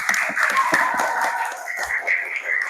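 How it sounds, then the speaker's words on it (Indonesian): A classroom of students applauds their classmate Hafiz with a scattered, fairly close burst of hand claps that fades as voices carry on. "Bisa diberikan tepuk tangan dulu untuk temannya Hafiz."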